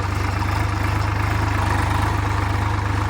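A Swaraj 744 XT tractor, a 50-horsepower model, runs at a steady idle-like pace in a field. Its deep, even diesel rumble throbs continuously and close by, with no voices.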